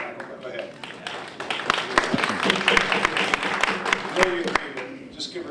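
Scattered applause in a city council meeting room, several people clapping unevenly under talk, close and moderately loud before tapering off.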